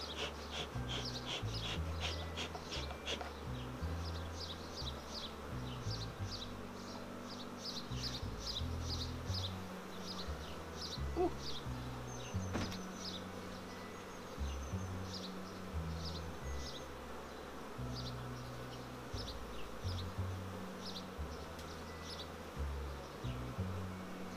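Honey bees and larger drones drone around an open beehive, a steady close buzz with fluctuating pitch and a few sharp higher chirps scattered through, no talking.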